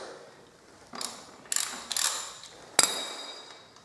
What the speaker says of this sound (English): So we're going to remove the axle nut first.